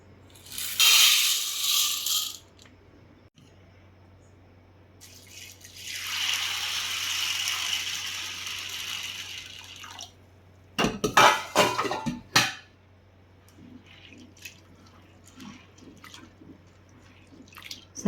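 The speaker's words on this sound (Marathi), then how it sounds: "आता सर्वात आधी मी साबुदाणा धुवून घेत आहे." Sabudana sago pearls are washed in water in a kitchen bowl, with bursts of swishing and pouring water, a longer rinse in the middle, then clattering of the vessel and soft drips toward the end.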